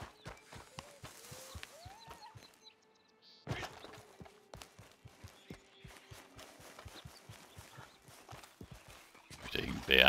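Hooves of a reluctant horse clip-clop in Red Dead Redemption 2 Online, a steady run of sharp close hoof strikes with a brief pause, a short whinny-like tone and a voice talking over parts.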